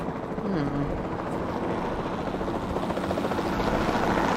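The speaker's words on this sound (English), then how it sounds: "the sensible thing is to take a capture team helicopter" A capture team helicopter in Jurassic World Evolution drones steadily with a constant rotor hum throughout, loud and even, with faint voices underneath.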